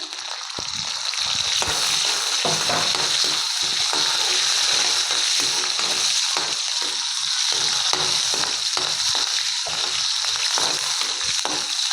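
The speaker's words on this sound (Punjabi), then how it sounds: "ਹਰੀਆਂ ਮਿਰਚਾਂ ਜੀਰਾ ਤੇ ਲਸਣ ਨੂੰ ਆਪਾਂ ਭੁੰਨ ਲਿਆ" Green chillies, cumin and garlic fry in a pan with a loud, continuous close sizzle and crackle, steady and unbroken for the whole stretch.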